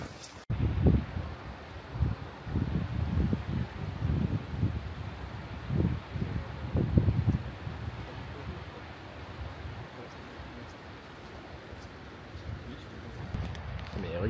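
Strong wind gusts outdoors on the Faroe Islands, buffeting the microphone in heavy low rumbles that ease into a steadier rush, with a brief voice early on.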